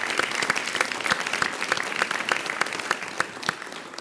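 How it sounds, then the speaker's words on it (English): Steady applause from a city council meeting audience fills the space, dense clapping continuing throughout at an even level. "let's give them a round of applause for that."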